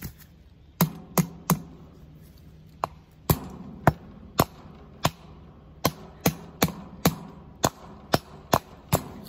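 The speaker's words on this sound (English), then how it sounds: "I know I'm not good at hammering." Hammering on a farm, a steady series of about twenty sharp, loud strikes, some quick pairs and some spaced out, close by with faint background noise and no speech.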